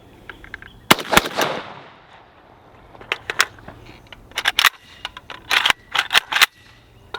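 A Century Arms AK-47 rifle fired outdoors: a sharp shot near the start, then scattered single reports and quick bursts of several shots in a row, loud and close.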